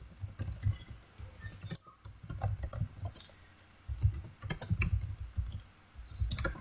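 Computer keyboard typing in bursts of quick clicks with short pauses, close and fairly quiet, while a basic Express server route is written in Node.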